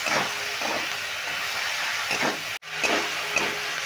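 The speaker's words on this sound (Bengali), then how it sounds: "টমেটোর সঙ্গে ক্যাপসিকামটাও ভালো করে নেড়ে ভেজে নেব।" Tomato and capsicum sizzle and hiss in a hot pan while being stir-fried, a constant frying hiss with periodic swells as the vegetables are stirred, briefly cut off for a moment midway.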